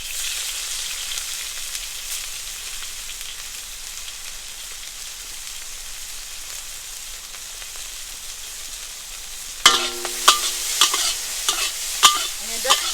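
Shrimp fried in a hot pan for char kuey teow: a steady sizzle runs throughout, then from about ten seconds sharp scraping and clattering strokes mark the shrimp being flipped several times.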